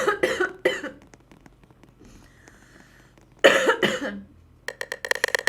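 Two harsh coughs up close, a quiet pause with faint clinks, then another pair of coughs followed by a rapid series of short throaty bursts.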